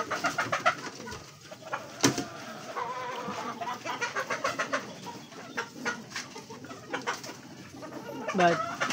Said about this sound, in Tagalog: Ayan, gandang kalapate.